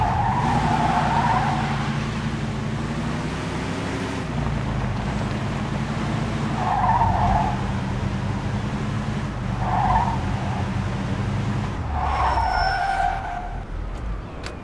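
Tyres skid and squeal during a police chase in the video game Mafia 2, with a continuous engine drone underneath and several swelling screeches at close range.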